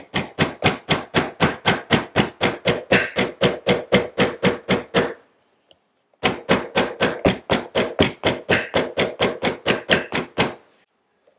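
A quarter-pound mallet strikes a glued leather bag in two rapid, evenly spaced runs of sharp taps, about twenty blows each. The blows are close and loud, with a brief pause between the two runs.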